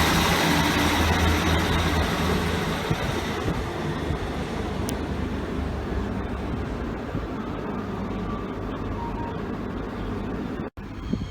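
A train pulling out of Doncaster station, a loud steady rumble of engine and rolling wagons with faint squeaks, continuous throughout and ending in a brief cutoff, no speech.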